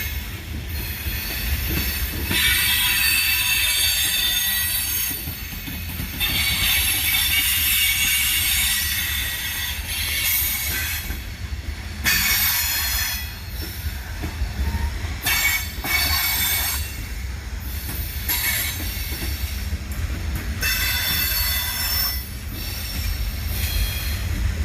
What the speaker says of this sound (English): These look like they're all wood chip hoppers.